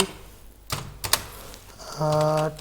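Keys clatter on a computer keyboard as HTML text is typed, a few distinct taps followed by a quick run of keystrokes, close and clear, ending with a brief electronic tone.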